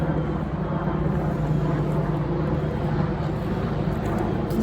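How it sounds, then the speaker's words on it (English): Airplanes flying overhead near a teaching airport make a steady, loud, broadband low rumble that holds evenly throughout with no break and no voices. "planes going overhead. We're right near a teaching airport."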